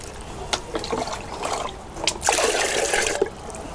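Water poured into a bucket of buttermilk for a terrace-garden plant spray, close splashing and trickling that comes in uneven pulses and swells louder toward the end, with no talk.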